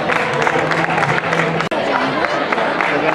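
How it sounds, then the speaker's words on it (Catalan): An outdoor crowd applauds the winners of a Canals cycling race, a steady dense patter of clapping with voices talking and calling out over it and one sharp knock partway through. "Un aplaudiment per ells."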